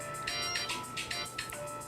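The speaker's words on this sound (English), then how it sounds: "Whoops, that's my phone." Mobile phone ringtone going off indoors, a bright repeating electronic melody with evenly spaced pulses, fairly loud and alone with no talk over it.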